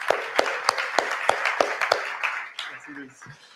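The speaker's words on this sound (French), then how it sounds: "On l'applaudit, bien entendu." An audience at a stage event claps in a short burst of sharp, rhythmic hand claps that fades after a few seconds, with speech over it.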